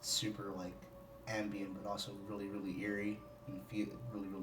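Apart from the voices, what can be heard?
No everyday noise stands out behind the speech.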